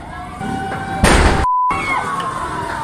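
A sudden loud explosion bursts from burning market stalls over a continuous wailing siren and a crowd-like rumble, followed by a brief cutout and the siren carrying on.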